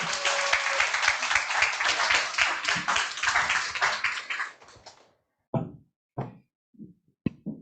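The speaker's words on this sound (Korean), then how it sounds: "큰 박수 부탁드릴게요" An audience applauds a lecturer being introduced at a business group meeting, a dense burst of clapping that fades out around five seconds, followed by a few scattered claps and small taps.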